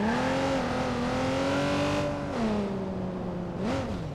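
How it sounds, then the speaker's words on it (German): Loud engine roar of racing cars in the video game Watch Dogs 2, revving steadily with pitch rising and falling as they accelerate, continuous and close without pause. "die Autos, die sind einfach so übertrieben laut"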